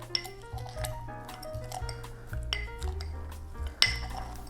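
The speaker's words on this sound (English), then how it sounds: "So I've got my honey as well as my basil, my serrano peppers, and my cucumber, and then I'm going to muddle that down." Honey, basil, serrano peppers and cucumber are muddled for a spicy cucumber gimlet, with irregular clinks and knocks of the muddler against the glass, some faint rattles in between, and one sharp ring near the end, with no talking.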